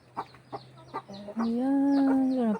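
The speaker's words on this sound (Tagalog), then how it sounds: "Manok ng mga kapatid ko yun." Backyard chickens kept by a family in a rural village cluck in short separate calls, then one bird lets out a long, loud, drawn-out squawk up close.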